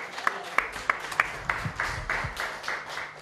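An audience applauds as a 13-year-old girl is welcomed on stage to sing at a Romanian seaside summer song contest: a few sharp claps at first, then dense, steady clapping from a fairly close crowd.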